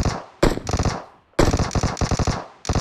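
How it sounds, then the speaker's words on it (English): Bursts of rapid automatic fire from a Vector submachine gun in PUBG Mobile, two long sharp strings of shots separated by a pause, loud and close with no talking. "I can hear his damn vector"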